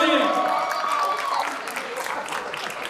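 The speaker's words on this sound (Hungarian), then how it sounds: "Azt a mindenit meg lehet tapsolni" Wedding guests clapping together in a steady, dense round of applause that holds throughout, with a voice speaking over the start.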